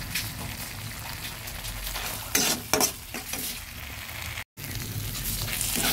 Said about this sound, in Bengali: মশলাগুলো সুন্দর ভাজা হয়ে গেছে